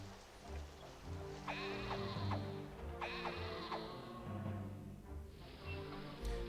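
Sheep in the Caesar 3 city-building game bleat in a few repeated, wavering calls over a steady low ambient bed. The calls are moderately loud and there is no voice.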